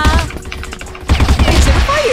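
Rapid bursts of automatic gunfire from the online shooter CrossFire on the Satellite map, loud and dense, with a short lull near the middle before the firing resumes.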